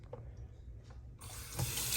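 Cold tap water starts rushing into the water tank of a Jura ENA 4 coffee machine after about a second, a steady, close hiss and splash.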